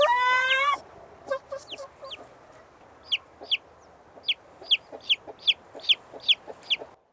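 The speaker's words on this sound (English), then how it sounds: "These chickens!" Chickens cluck and squawk. A loud burst of calls at the start gives way to a run of short, sharp, evenly spaced clucks that grow louder toward the end, with no talking.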